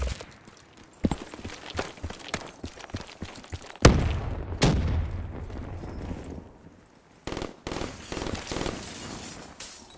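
Sharp gunshots ring out in a Black Ops 3 three-versus-three Search and Destroy match: a string of scattered single cracks, with a heavier burst near the middle, under general game noise.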